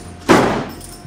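A 50 kg sack dropped from 1.2 m onto sheet metal roofing lands with a single heavy, close thud and a brief metallic ring that quickly fades.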